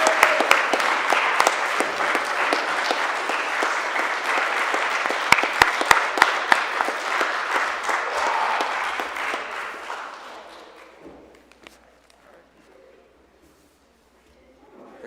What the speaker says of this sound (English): Can you please get a big round of applause again for James attaining the rank of Eagle.